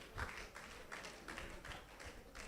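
Scattered clapping from a summit audience at a food business conference, fairly faint and distant, with irregular bursts of hand claps and no talking over it.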